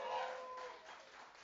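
Audience applause at a poetry event at a festival celebrating Benjamin Zephaniah, a short, fairly faint patter of clapping from a small crowd, fading out within a second or so.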